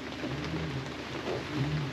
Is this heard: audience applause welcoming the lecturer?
no